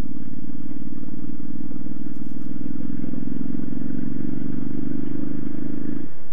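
A V-twin motorcycle engine roars loudly and steadily at high revs during a wheelie, a thick continuous drone lasting about six seconds that rises slightly in pitch before cutting off.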